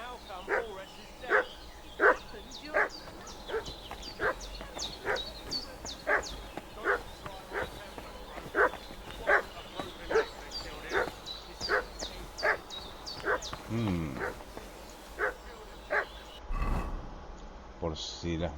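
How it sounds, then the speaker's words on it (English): A dog barks repeatedly at a moderate distance in a steady rhythm of sharp yips, while a person talks over it near the end. "What's that dog making such a fuss about?"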